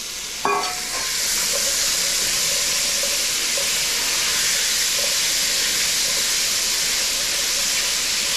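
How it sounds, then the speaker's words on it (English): Carrots and onions dropped into a hot pot with browned mushrooms for beef stew, a sudden clatter then a loud, steady, close hissing sizzle that holds throughout without talking. "I'm going to go in with my carrots and my onions"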